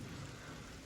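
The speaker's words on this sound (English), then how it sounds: "It's starting to rain again." Rain falls steadily during a thunderstorm, a dense, even hiss of drops with a low rumble beneath, with no voices.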